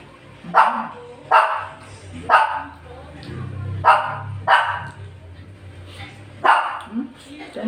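A dog barks repeatedly in sharp, loud bursts, about seven barks spread evenly over several seconds, fairly close, with a low hum underneath.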